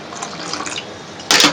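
Water is poured into ground ladoo pithi chutney for cooking, heard as a brief, loud splashing gush near the end after a stretch of soft room noise.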